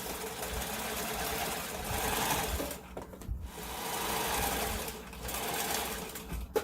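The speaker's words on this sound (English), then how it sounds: "I'm actually just sewing a 1/2 inch seam allowance." A sewing machine stitches a half-inch seam through chained fabric pieces in loud, rapid motor-driven runs, each broken by short pauses between bursts, with no talking.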